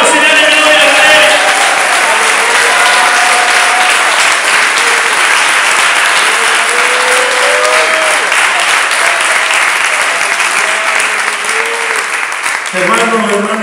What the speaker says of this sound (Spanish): Dale esas palmas y dale gloria a Dios.